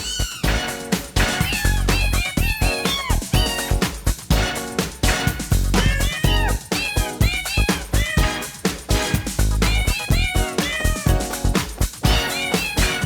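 In a PS1 game, a chorus of cartoon cat meows carries the melody of a song, with loud, rhythmic meows repeating in quick succession over a punchy musical backing.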